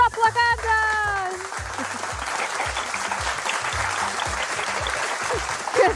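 An audience in a studio quiz show applauds in a sustained, dense wash of clapping after a brief musical sting, steady and fairly loud from start to finish.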